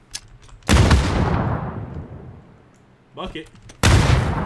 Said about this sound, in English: Gavin, open fire. Open fire. 10-4, open fire.